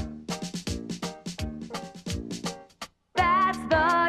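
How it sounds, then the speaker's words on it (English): Dixieland band drum and cymbal playing, a rhythmic run of sharp drum hits and strikes, followed by a brief pause and then a ringing, sustained cymbal wash. "drum, and that's the sound of the cymbal ring."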